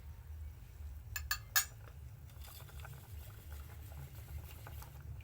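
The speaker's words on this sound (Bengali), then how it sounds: "খুব সুন্দর ফুটছে, দেখুন ফোটাটা দেখতে কি অসাধারণ লাগছে।" A vermicelli mixture boiling in a pot, heard as a quiet, low bubbling simmer, with a few sharp utensil clinks against the pot near the start.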